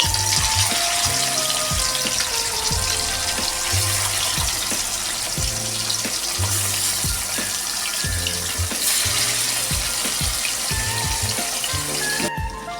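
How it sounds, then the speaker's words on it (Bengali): Salt-and-turmeric-coated fish frying in hot mustard oil in a wok for Bengali aar macher kaliya: a loud, steady, close sizzle that never lets up, with a low rhythmic backing running beneath it. "এখন নুন হলুদ মাখানো মাছটা আমি তেলের মধ্যে দিয়ে দিচ্ছি মাছগুলো খুব ভালো করে ভেজে নেবো"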